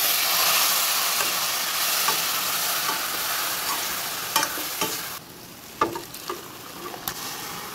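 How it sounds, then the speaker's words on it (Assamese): Garlic, onion, dried chili and ginger fry in hot oil until reddish, a steady close sizzle that thins out midway, broken by the scrapes and clacks of a spoon stirring the pan. "মানে এইখিনি অকণমান এনেকৈ ৰঙচুৱাকৈ ফ্ৰাই কৰি"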